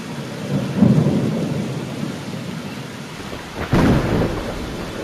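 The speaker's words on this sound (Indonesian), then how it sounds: "Diturunkan air berbentuk hujan" Rain falls steadily with loud rolling thunder claps, one near the start and a sharper crack closer to the end, and no voices.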